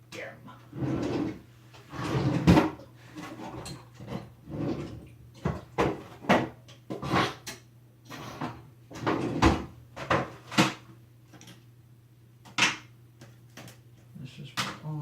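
Wooden drawer holding beard care supplies, sliding open and shut repeatedly in a series of sharp knocks and scrapes, with someone talking in between.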